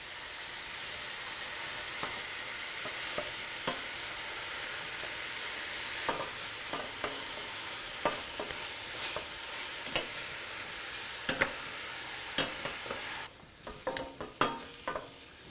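Ground beef sizzles steadily in a pan for a Bolognese sauce, with scraping stir strokes and utensil clicks breaking up the meat, growing busier and sharper near the end; no one speaks.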